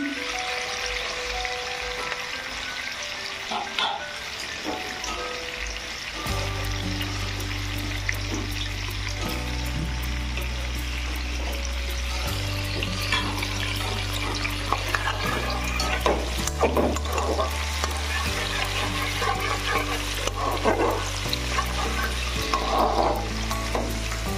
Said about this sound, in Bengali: এটা আর কি ভেজে নিচ্ছি